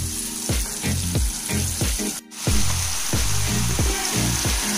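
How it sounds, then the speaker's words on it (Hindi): Masala with Kashmiri chili roasts in ghee for a Rajasthani dal, sizzling steadily while a spoon strikes and scrapes the pan in a regular rhythm. The frying drops out briefly near the middle before the sizzle and stirring come back. "और इसे हम तब तक भूनेंगे मसाले को जब तक ये ऑयल ये आपका घी छोड़ नहीं देता।"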